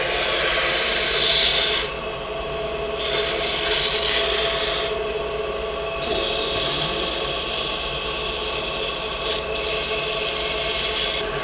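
Bocote wood hairpin spinning on a lathe while being sanded through grits with paste wax and mineral oil, a steady motor hum under scratchy rubbing that pauses and resumes in bursts, close and loud.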